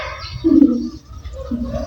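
A pigeon or dove gives two low, clear coos close by, separated by a short pause, with no talking over them.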